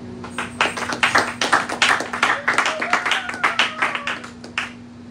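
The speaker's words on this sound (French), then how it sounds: "Acclamez pour le Seigneur." A church congregation claps for the Lord in a fast, steady rhythm of loud hand claps, nearby and continuous, while a voice speaks and sings over the clapping.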